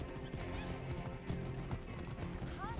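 Clip-clopping horse hooves at a steady trot with a whinny in Assassin's Creed Origins, under game music and ambience, moderately quiet.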